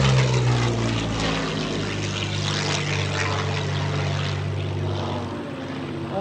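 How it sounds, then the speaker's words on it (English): A P-40 Warhawk with its Allison engine flies past at an airshow, a loud, close propeller drone with a rich harmonic growl that fades slightly toward the end. "I love the sweet song of combustion that Allison engine makes."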